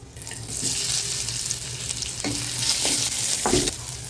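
Onions with green and dried red chilies fry in a hot pan while being stirred, a continuous dense sizzle with a few scraping stirs toward the end, close and alone.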